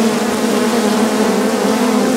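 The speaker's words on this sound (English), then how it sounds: "Lots and lots of bees up here." Honey bees swarm around an opened hive, producing a dense, steady buzzing drone that fills the air close to the microphone without pause.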